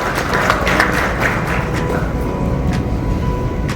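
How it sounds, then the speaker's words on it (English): An audience at the FICCI Annapoorna 2025 event gives steady, dense applause to welcome the chief guest on stage. The clapping is moderately loud and continuous throughout, with no voices on top. "give a warm round of applause as we welcome our chief guest on stage"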